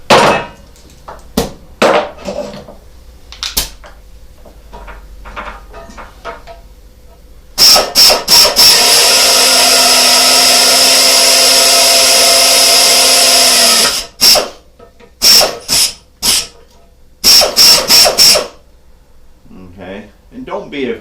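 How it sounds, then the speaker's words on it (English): A power drill bores a hole through a metal flange in a long, loud continuous whine lasting several seconds, preceded and followed by short tool bursts, clanks and knocks. "So we're going to drill a hole right there"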